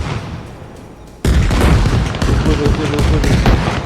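Gunfire and a sudden loud blast in the video game Arma Reforger, followed by continuous rattling shots and booms, loud and dense throughout.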